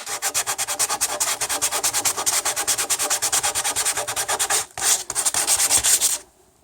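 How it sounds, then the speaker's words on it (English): Fast rhythmic rasping of sandpaper rubbed back and forth across a surface, close and continuous with a brief pause near the end. "So when I'm sanding, I'm looking at every one of these."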